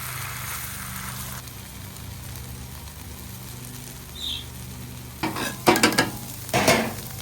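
Leftover brisket warms in butter in a pan, starting as a quiet, low sizzle, then several sharp scraping and stirring bursts near the end as the meat is spread out, with no talking.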